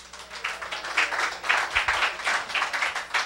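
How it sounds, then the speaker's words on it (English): Congregation members clap in a church service as a clap offering to God, rhythmic pulsing bursts of clapping from a group with a steady beat, moderately loud and without talk. "Give a clap offering to God."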